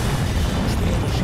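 Torpedo hits explode on a tanker in the submarine game UBOAT, a dense, continuous, loud rumbling boom filling the whole moment without pause.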